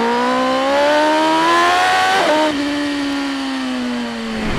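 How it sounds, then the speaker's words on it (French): A BMW M 1000 R motorcycle engine held against a pit limiter set at 5000 rpm, a loud, close, steady buzzing drone that holds level, dips and wavers briefly midway, then settles back into a sustained tone. "j'ai un pit limiter bloqué à 5000 tours"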